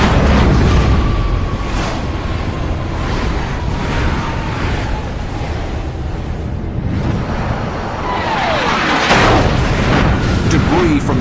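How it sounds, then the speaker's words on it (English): A missile explosion hitting a MiG-17 jet: a loud, rumbling blast and roaring noise fill the whole stretch, with a descending whistle-like tone and dense, heavy low-end turbulence. "Debris from the explosion takes down the MiG's wingman."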